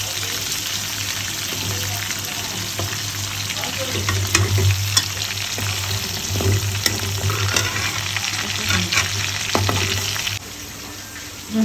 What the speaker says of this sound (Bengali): সুন্দর করে ভাজছি।